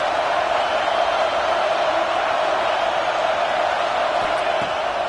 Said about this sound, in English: this crowd getting behind its defense